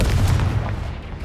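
A Confringo fire spell blasts in Hogwarts Legacy, a loud, dense, low boom rolling across the whole short moment before easing off slightly at the end.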